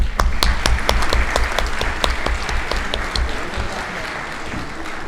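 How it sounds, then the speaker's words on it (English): Audience applause at a business management conference, a dense, steady round of clapping filling the hall, with a few sharper claps standing out and the ovation easing slightly toward the end. "I think she deserves a round of applause."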